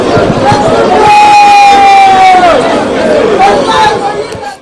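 A large crowd of political supporters at Kinshasa Ndjili airport roars and chatters loudly and continuously, a dense wash of cheering voices with a sustained shouted tone rising above the babble.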